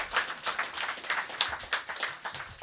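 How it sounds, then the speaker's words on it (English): Scattered clapping from a small audience at a 2022 senior capstone celebration, uneven bursts of hands rising and falling over a few seconds, moderately close with no talking. "There'll be more hands coming together, but it'll basically be human applause"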